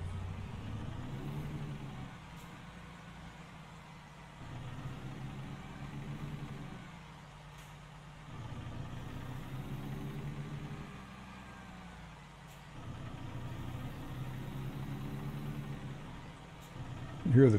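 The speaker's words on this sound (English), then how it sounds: "You hear the truck in the background." A truck engine idles in American Truck Simulator, a low steady rumble that swells and eases in slow cycles across the whole stretch, moderately loud and unbroken.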